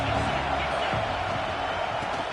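A football stadium crowd at a UCLA game roars steadily to disrupt the offense, a dense, loud, continuous wash of noise with a commentator talking over it.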